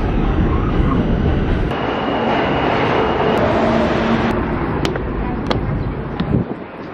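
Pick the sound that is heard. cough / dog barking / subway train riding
subway train riding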